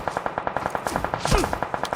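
Rapid automatic gunfire from an enemy in the PUBG Mobile video game, a steady burst of evenly spaced shots at moderate distance.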